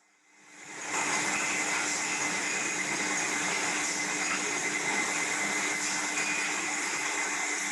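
A wine topping-up machine used after disgorging runs with a steady, loud mechanical whir that starts up in the first second and holds constant, with no talking over it.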